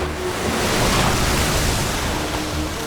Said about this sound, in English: The next second, a massive wave was unleashed.